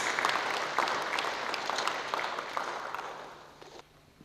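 An audience at a public sector audit awards ceremony applauds a provincial minister, steady clapping that tapers off after about three and a half seconds.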